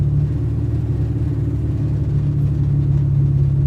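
A 1998 Cobra idling with no tailpipes, its muffler dumping straight out, giving a loud, steady, deep rumble close by with no talk over it.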